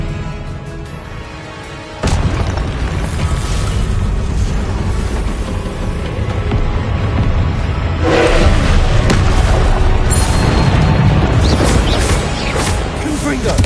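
Spell blasts and impacts from Hogwarts Legacy fire off in a dense, loud, continuous barrage of booms and crashes, with heavier bursts partway through and shouted spell names over the top.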